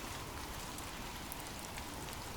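Soft, steady rainfall patters evenly on a surface. It forms a quiet, constant hiss with no voices or other sounds over it.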